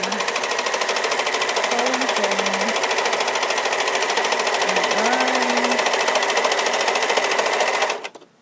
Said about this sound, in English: I'm just serging straight down, all the way down to the end.